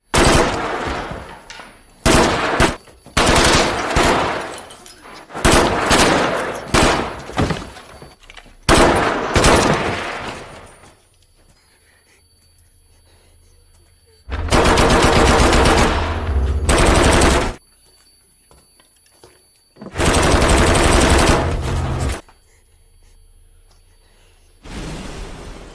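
Terrorists in a film scene spray the guests of a small roadside eatery with machine-gun fire. Several long, loud bursts of rapid automatic shots are separated by brief silences, with a final burst at the end.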